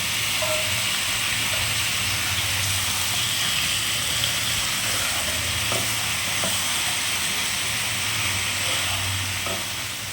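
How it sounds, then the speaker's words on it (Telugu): Fish pieces for chapala pulusu fry steadily in a pan, a dense continuous sizzle with a low bubbling hum underneath and occasional soft stirring clicks, close and even throughout. "ఒక 5 minutes 6 minutes వరకు అయితే ఇలా వేయించుకోవాలి"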